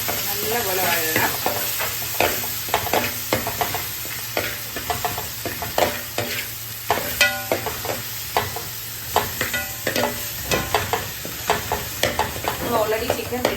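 Chopped green chilies and crushed garlic sauté in hot oil in a pan, a steady sizzle running underneath repeated close spoon-against-pan stirring scrapes and clinks, with no talking.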